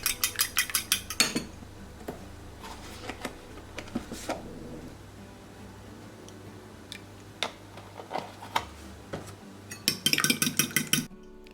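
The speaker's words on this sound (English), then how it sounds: "I will beat 1 egg with some milk, with 1 tablespoon of milk." One egg beaten with a tablespoon of milk, a fork or whisk clicking rapidly against a bowl in quick bursts at the start and end, with softer scattered clinks between.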